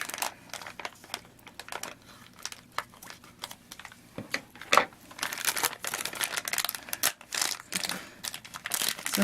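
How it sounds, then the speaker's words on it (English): Crinkling plastic of a small blind bag being cut and torn open with scissors, sporadic close crackles and snips growing denser and louder in the second half. "we'll open this little blind bag. I get some scissors for it this time though."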